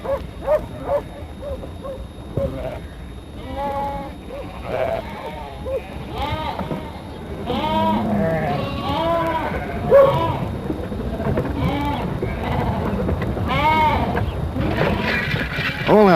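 Sheep bleat continuously as a flock is mustered on a farm, many overlapping calls near and far building into a dense chorus, with a dog barking at times.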